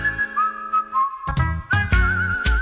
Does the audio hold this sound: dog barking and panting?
no